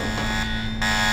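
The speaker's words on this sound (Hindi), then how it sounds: "देखो उसका टेम्परेचर बढ़ने लगा और अलार्म भी बजने लगा" An alarm rings inside the horror video game Mr Meat as a temperature rises, a steady loud electronic tone sustained without pause over a dense, noisy game background.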